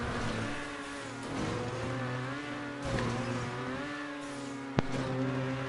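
In a GTA Online stunt race, a car engine revs continuously with rising and falling pitch, fairly close, and a sharp knock near the end.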